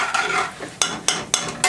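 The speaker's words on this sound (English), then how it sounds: "They start to sizzle in there." A steady hiss of frying sizzle fills the background while a utensil clinks against the pan three or four times, close up and without voices.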